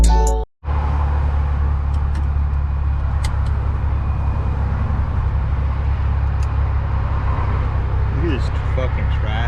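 Steady road and traffic rumble fills the cabin of a moving Infiniti G35, a constant low drone with a brief dropout near the start and occasional faint clicks and voices in the background.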